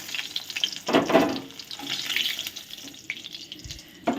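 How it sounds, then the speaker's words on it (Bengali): Eggs frying in oil for a Bengali egg and potato curry, a steady broadband sizzle with a louder burst of crackling early on and a softer hiss that continues after it. "ডিমগুলো দেখুন ভাজা ভাজা হয়ে গেছে"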